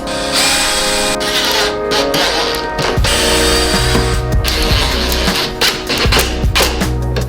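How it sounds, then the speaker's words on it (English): A power screwdriver drives screws to fix a drawer back in place during a camper van rebuild, loud and close, with whirring bursts broken by brief stops and knocks. "Now we'll screw this back in, and by screw it back in I mean screw it in."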